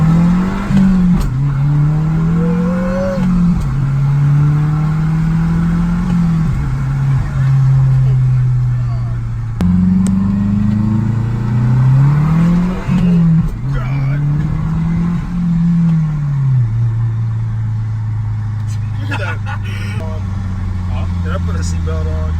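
A cheap project car drives off and accelerates, its engine droning loud and close as the revs climb and drop through repeated shifts, with excited voices talking over it inside the cabin.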